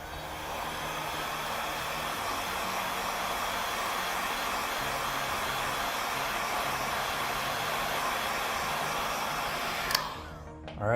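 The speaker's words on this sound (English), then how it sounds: "Get a heat gun, blow heat on this side." A heat gun blows hot air onto the side of an iPhone 11 Pro during a screen repair, a steady close rushing whoosh that holds for about ten seconds before cutting off abruptly.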